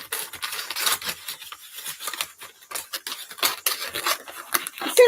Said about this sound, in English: I've got some scissors. So we just need to cut out.